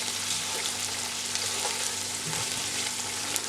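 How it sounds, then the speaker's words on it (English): Baby plum tomatoes and tomato paste sizzle in a curry pan, a steady close frying hiss with soft occasional stirring scrapes. "I'm just stirring this around at the minute to take the tartness out of the tomato paste"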